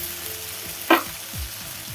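Fish frying in a little light oil for a Bengali spicy fish curry, a steady soft sizzle with a brief louder crackle near the middle and faint background hum, no talk.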